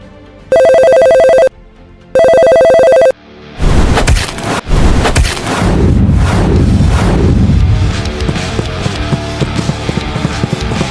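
Ringback tones from a phone call in an animated drama: two long electronic rings, then clattering, galloping-like sound effects and a busy, loud mix with no speech.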